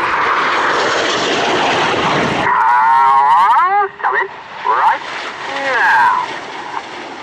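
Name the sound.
Red Arrows jet flying past at an airshow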